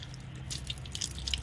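Water splashing and dripping in a sink while rinsing the nose during wudu, a series of light close drips and splashes over a low steady running-water background.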